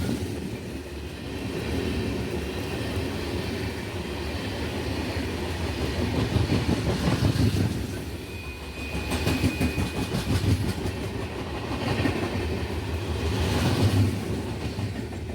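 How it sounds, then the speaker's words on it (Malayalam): Thiruvananthapuram–Silchar Aravana Express rolls past near Thiruvananthapuram Central, a steady loud rumble of wagons with rhythmic wheel clatter and a brief metallic squeal, swelling and easing across the passage. "തിരുവനന്തപുരം സിൽച്ചാർ അരവണ എക്സ്പ്രസ് ആണ് ഈ പോകുന്നത്."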